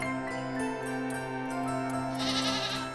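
A goat bleats in an animated moral story, a wavering cry over sustained musical tones and a soft background score, fairly loud and close.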